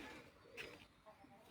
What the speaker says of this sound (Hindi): ये जी एक नायाब ब्रीडर कबूतर